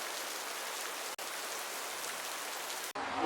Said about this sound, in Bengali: বৃষ্টির মধ্যে শহরের রাস্তায় অর্জুন একা হাঁটছে।